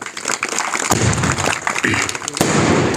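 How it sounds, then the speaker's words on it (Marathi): Audience applause at a Shivaji Jayanti lecture in Giralgaon, a loud, dense burst of many hands clapping at once, sustained and rough throughout with heavy booming thumps. "त्याच्यासाठी एकदा पहिल्यांदाच टाळ्या वाजवा."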